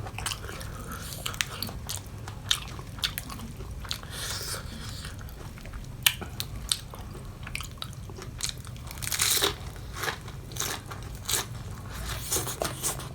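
Crunchy Thai papaya salad with fresh spicy shrimp being bitten and chewed close up, with repeated crisp crunches and wet squishy chewing at an irregular pace and no talking.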